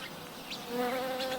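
A wasp buzzes while caught in a spider web, a steady close insect drone that grows louder partway through and holds to the end, with faint music underneath.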